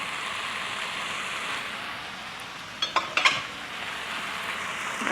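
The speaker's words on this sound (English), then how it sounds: "So now I'm gonna add a couple tablespoons of maple syrup and just stir to coat." A pan of browned sausage, vegetables and maple syrup sizzles steadily while a utensil stirs it, with a few brief clinks and scrapes against the pan midway through. No voices.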